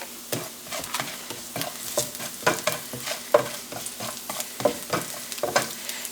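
Sliced onions sauté with salt in a hot pan for a Kerala-style vegetable thoran, a steady soft sizzle broken by repeated close scraping stirs of a spoon against the pan, with no talking.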